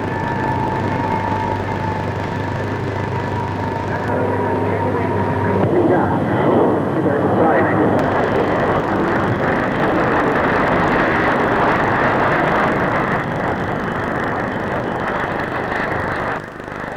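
A 1950s delta-wing jet aircraft at the Farnborough air show passes with a loud, rising jet roar that builds midway and holds strong, following a stretch of steady narration.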